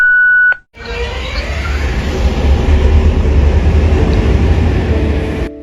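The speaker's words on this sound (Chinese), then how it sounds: "伴随着2股黑烟，车头浑厚的声浪，484次本屋机车起机" A diesel locomotive at a station on the Laos–Thailand international line starts up after a brief electronic beep, its engine swelling into a loud, deep, continuous rumble that holds steady until it cuts off.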